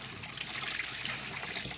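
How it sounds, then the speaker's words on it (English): Water poured out of an aquarium filter, a steady splashing trickle heard close and alone for under two seconds. "I'm gonna drain out the water"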